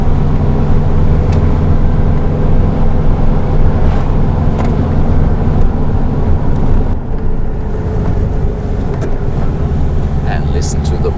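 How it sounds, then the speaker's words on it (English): A vintage Volkswagen Beetle engine drones continuously with a faint high whine from the engine fan above it, heard from inside the moving car on winding roads with wind rumble. "listen to the whine of the engine fan."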